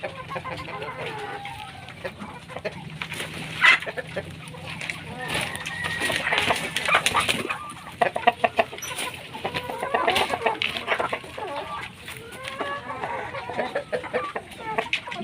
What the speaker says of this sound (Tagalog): apat na Shamo inahin,